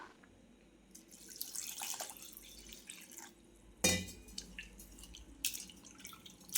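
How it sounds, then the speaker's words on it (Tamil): Water splashes and swishes in a bowl as flattened rice is rinsed by hand, with intermittent pours and drips, close and fairly quiet. "இதை டஸ்ட் போக நல்லா ரெண்டு தடவை வாஷ் பண்ணிக்கலாம்"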